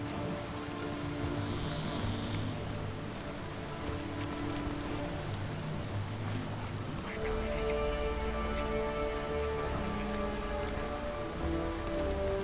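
Rain falls steadily in the video game Divinity Enhanced Edition, a soft continuous patter of drops on surfaces under layered ambient game music, with no speech.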